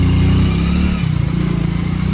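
Close and loud, a motorbike engine strains in a low gear climbing a steep concrete path in hill country, a rough throbbing drone that shifts into a pulsing chug partway through, with no talking.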